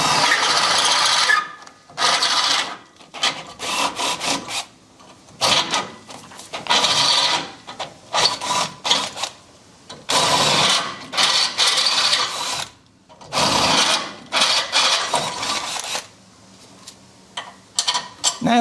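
A power drill with a 10mm bit whines and grinds in repeated bursts separated by short pauses, biting and squealing as it enlarges holes in metal close by.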